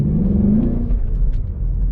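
A Ford Mustang GT's engine revs close by, a deep throaty rumble that climbs in pitch and then settles into a steady growl, with no voices over it.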